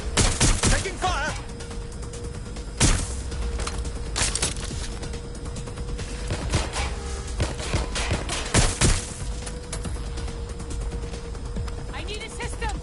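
Video game gunfire in rapid, loud bursts and scattered single shots that repeat throughout, mixed with voices shouting over the shooting.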